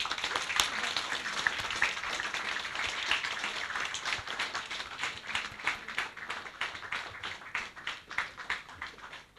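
An audience at a lecture about a former Latvian prime minister applauds in his honour, a steady dense clapping that thins into separate claps toward the end, with no talk over it.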